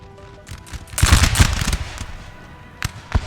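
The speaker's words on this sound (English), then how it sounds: "Good shots by the Jaegers" Musket volleys from Jaeger light infantry in a Napoleon Total War battle with Prussia: a dense crackling salvo of overlapping shots in the middle, then two sharper isolated reports near the end, fairly close.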